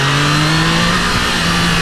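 Triumph Trident 660 motorcycle engine held at a steady, loud drone with a strong low tone, revving continuously with little change throughout.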